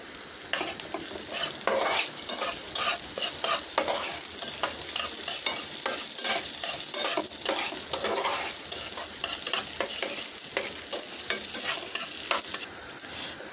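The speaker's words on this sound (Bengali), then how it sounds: "তেলের মধ্যে দিয়ে দিচ্ছি পেঁয়াজ, দিয়ে দিচ্ছি মেথি" Onion and fenugreek frying in oil in a pan, a steady close sizzle with repeated stirring scrapes throughout, loud and continuous with no talk.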